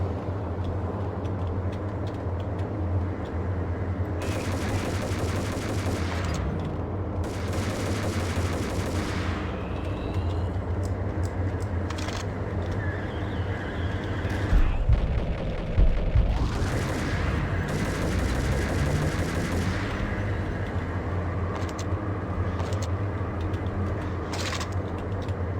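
Automatic Colt Commando gunfire in the Max Payne video game, dense repeated bursts of rapid shots over a continuous rumbling game soundscape, loud and sustained with a few heavier blasts.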